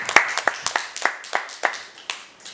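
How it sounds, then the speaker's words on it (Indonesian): Teachers at a senior high school clap their hands in a room, a series of sharp, distinct claps in a loose, uneven rhythm, fairly close and with no talking over them. "Tepuk tangan Bapak Ibu sekalian benar semua."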